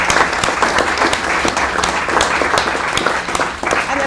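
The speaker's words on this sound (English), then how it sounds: "give him a big round of applause for showing up." A startup event audience in Tampa Bay applauds, a dense, steady wash of clapping from many hands filling the room, loud and close throughout.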